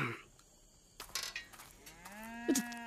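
A cow moos with a long, drawn-out low call in the second half. It is preceded by brief clattering noises and is heard clearly with no talk over it.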